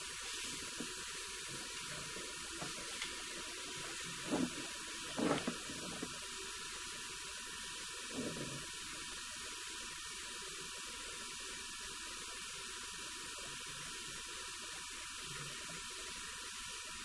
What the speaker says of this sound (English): Let's turn that sink on again.